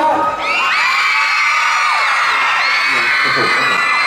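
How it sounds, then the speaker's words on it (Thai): A crowd at a Toyota event at Central Festival Phuket screams loudly, with high-pitched, sustained shrieks and cheers from many voices filling the space continuously. "งั้นเดี๋ยวขอเสียงกรี๊ดด้านหลังให้ผมสักหนึ่งทีได้ไหม"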